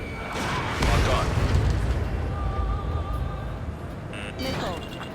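Missile explosions in the combat flight game Ace Combat 7 produce deep booms and bursts, one heavy blast early and another near the end, over jet rumble with in-game voice callouts and warning tones.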